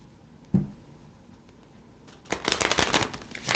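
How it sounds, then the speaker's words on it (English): A deck of tarot or oracle cards being shuffled by hand, a single soft thump followed by a quiet pause and then a dense, close run of riffling and rustling that lasts to the end. "Let me give them a shuffle and some of my energy in them"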